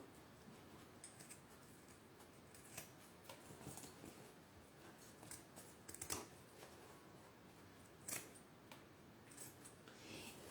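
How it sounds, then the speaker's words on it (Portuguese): Scissors snip close along the edge of a zipper and fabric, trimming the excess while sewing a phone holder; several quiet, sharp cuts come at irregular moments over a low background hiss. "na hora de cortar o zíper, eu corto ele bem rente"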